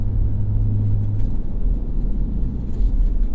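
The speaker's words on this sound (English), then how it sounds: "maybe hit some washouts like that, the truck takes it nice" A Ford Ranger Raptor pickup truck driving off-road through desert washouts, giving a steady, loud low engine and road rumble from inside the cab with no talk.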